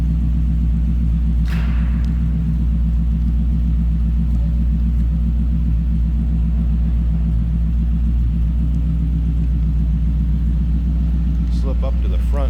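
A 1959 Cadillac DeVille Custom's engine idles steadily from behind the car with a deep, even rumble, loud and continuous throughout, with faint incidental noises over it.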